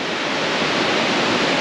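Steady broadband roar of a waterfall at Durmitor in the Montenegrin mountains, spilling down a vertical rock face above a stony slope, loud and unbroken throughout with no voices.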